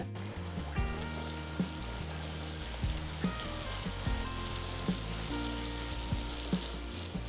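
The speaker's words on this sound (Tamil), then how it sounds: "எண்ணெய் நல்ல சூடாக இருக்கும்போது திரட்டி வச்ச பட்டூராவை மெதுவாக எண்ணெயில் போடுங்க" Steady sizzling and bubbling of bhatura frying in hot oil, with occasional sharper pops and crackles over a continuous hiss.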